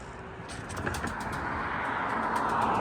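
Young pigeons flying out with older birds on an outdoor loft flight, with faint cooing and wing flutter over a steady wash of open-air background noise.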